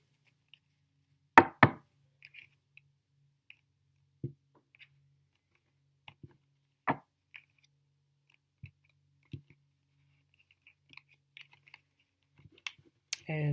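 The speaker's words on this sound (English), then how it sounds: "Let me just give these a bit of a knock and a bit of a shuffle." Sparse, close clicks and soft taps of a deck of cards being knocked, shuffled and cut, with a few sharper snaps and brief riffling bursts separated by quiet pauses.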